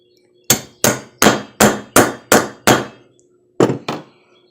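A hammer taps a bushing into a lawn mower wheel hub: seven evenly spaced sharp metallic knocks, a short pause, then two more quick taps, close and clear with no talking.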